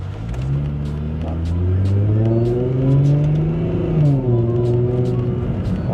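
A Lexus IS250 XE20 facelift engine revving nearby, rising in a smooth climb, holding at high revs, then dropping back to a steadier drone.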